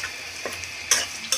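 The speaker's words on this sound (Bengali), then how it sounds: "মশলাটা ভাজা করবো" Ginger-garlic paste and ground spice paste fry with onions and whole spices in a pan, a steady close sizzle broken by a few scraping stirs of a spoon.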